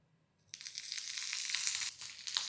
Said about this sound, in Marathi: लोखंडी कढईमध्ये कसं पटापट छान भाजलं जातं